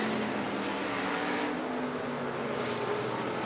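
IMCA stock car engines roar at close range on a dirt oval at Devil's Bowl Speedway in Mesquite, Texas, a continuous loud drone of the cars heading to the checkered flag.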